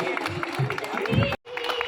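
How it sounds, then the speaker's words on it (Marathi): An audience applauds at a community event for the restoration of a Sai Baba idol, brief scattered clapping and crowd noise with a short dropout near the end. "मित्रांनो जोरदार टाळ्या"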